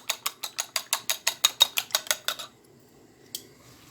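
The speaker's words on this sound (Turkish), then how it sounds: "Şöyle yumurtalığı güzelce çırpacağım." Eggs are whisked in a bowl with about fifteen quick, evenly spaced metallic taps, then the strokes stop, leaving near silence broken by one last faint clink.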